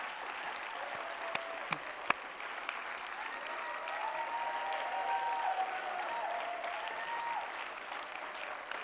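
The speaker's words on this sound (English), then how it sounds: "please give a huge round of applause to Sally Theobald and Tim Martineau as representatives" Sustained applause from a conference audience at a health systems research closing plenary, steady dense clapping throughout with a few sharper claps near the start and faint voices beneath.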